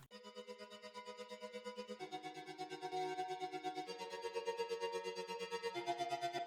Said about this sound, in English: We have this flutter pad here, which is quite a common sound in progressive house.